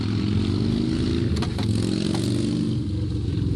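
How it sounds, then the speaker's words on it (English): A motorcycle passes at moderate distance with a steady engine drone through the whole stretch, plus a few brief rattling clicks partway through; no one speaks. "the bike decides to drive by right when I'm trying to talk"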